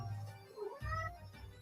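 A pet cat gives a single short meow, rising and then falling, faint and close over a low background hum in a quiet room.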